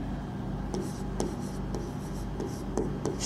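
Marker strokes on a classroom board during a biology lesson on the cell nucleus, giving a handful of short scratchy squeaks spaced about half a second apart over a steady low room hum, fairly close.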